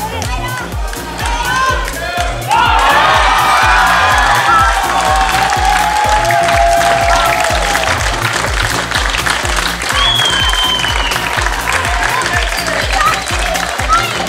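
A football crowd at an Estonian Cup round-of-32 match between Rakvere JK Tarvas and Maardu Linnameeskond roars with loud, continuous applause, cheering and whoops, and a voice carries over the din.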